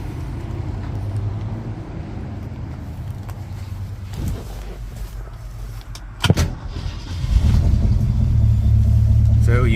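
A 1966 Ford Mustang with its 289 V8 and stock manifolds idles with a steady low rumble. A brief sharp knock sounds partway through, then the engine note swells louder and fuller toward the end.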